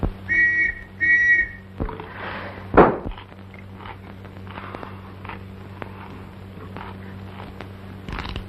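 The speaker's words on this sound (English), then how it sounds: "The whistle that was blowing just now." A whistle blows in two short shrill bursts at the start, followed by a sharp crack or slam and then quiet room tone with faint movement.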